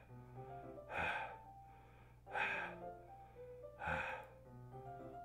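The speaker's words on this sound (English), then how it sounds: "A sharp inhale, like someone is sucking the air through their teeth." Three sharp, hissing inhales in Doki Doki Literature Club, like air sucked through teeth, spaced about 1.5 seconds apart over a faint steady background hum.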